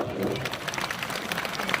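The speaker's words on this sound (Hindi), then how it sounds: "इनका अपन तालियां बजाकर आप लोग स्वागत करें" An audience at a public gathering in India claps to welcome a state minister. The applause is brief and fairly loud, with thick, overlapping claps.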